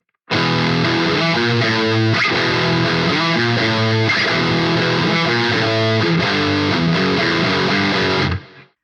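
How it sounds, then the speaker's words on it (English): Loud, heavily distorted electric guitar plays a driving riff at full speed for several seconds, then cuts off abruptly. "let's kick in with some distortion and play it up to speed."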